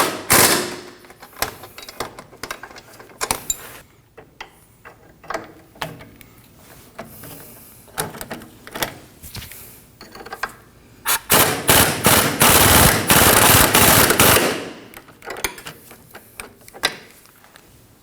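A power tool snugs down the front sway bar link bolts on a 2003-2006 Subaru Baja, firing in short rattling bursts separated by pauses, with one longer sustained run midway, close and loud.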